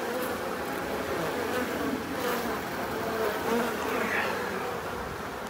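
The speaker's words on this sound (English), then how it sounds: "These bees are working the balsam" Honey bees in a double-box hive, working balsam and taking down sugar syrup in October, fill the air with a continuous, even buzzing close by.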